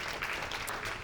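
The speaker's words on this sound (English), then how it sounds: "Give Senator Breslin a round of applause." A meeting audience claps for Senator Breslin, a brief patter of applause at moderate distance with no talking over it.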